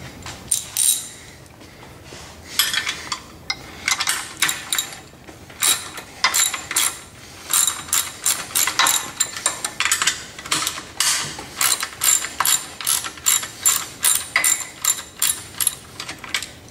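A ratchet clicks in quick repeated bursts while caster wheels are taken off a Hydro Cart kit, the fast metallic ratcheting loud and close with short pauses between runs and no talking.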